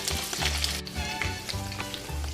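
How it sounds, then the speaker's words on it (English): Chorizo sizzles and fries in a hot skillet with bacon, a loud close crackling hiss with rhythmic stirring pulses throughout. "I added the chorizo and getting ready to cook it down"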